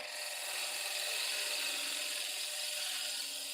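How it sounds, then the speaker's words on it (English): Wood is cut on a lathe, a steady hissing, scraping whir of the tool against the spinning blank, fairly quiet and even throughout, with no talking. "we'll turn down to this middle line"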